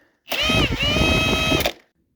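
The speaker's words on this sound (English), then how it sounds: "Or you can just use an impact and it'll whack it off" An impact wrench with a 19mm socket spins off a left-hand-thread nut on a Jonsered 630 Super 2 chainsaw, one loud close whirring burst of about a second and a half that starts and stops abruptly.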